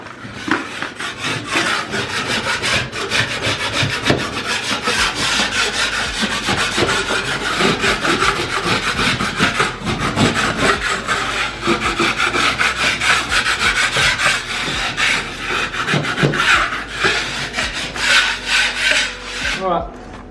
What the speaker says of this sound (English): So there is my sanding for first coat.